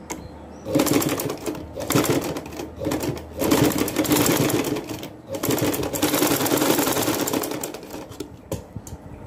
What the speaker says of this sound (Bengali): আমি এই যে এখানে সেলাই করে নিব, এখানে জয়েন দিয়ে দিব